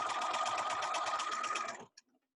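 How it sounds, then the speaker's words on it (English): Sewing machine stitching a quarter inch from the edge of binding on a homemade fabric face mask, a steady rapid whirring run for nearly two seconds that stops abruptly, followed by a couple of faint clicks. "sew a 1/4 inch from the edge of the binding"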